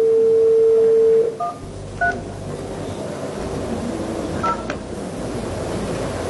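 A telephone call placed during a televised family mediation program, opening with a steady dial tone that breaks off into a few short keypad beeps over a constant hiss, with no talking.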